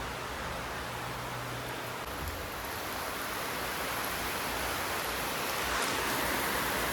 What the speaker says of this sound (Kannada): ನೋಡ್ಬೋದು ಮಳೆ ಹೆಂಗೆ ಬರ್ತಾ ಇದೆ ಅಂತ.